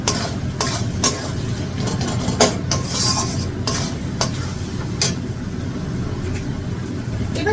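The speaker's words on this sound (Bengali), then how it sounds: "এবার ভালো করে মশলাগুলো কষিয়ে নেব" Spices with salt and sugar sautéed in a pan for duck meat curry, a loud close sizzle broken by repeated rhythmic spatula scrapes and knocks against the pan, no voices.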